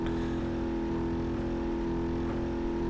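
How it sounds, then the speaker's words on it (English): A steady, droning car engine hum from the BeamNG Drive video game holds at high revs throughout, sustained and even, with no voices. "get rid of these high revving engine sounds"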